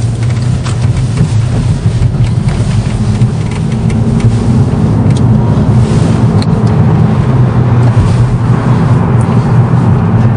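Volkswagen Scirocco pulling out of a dealership, its engine a loud steady low drone heard from inside the cabin with road and wind noise.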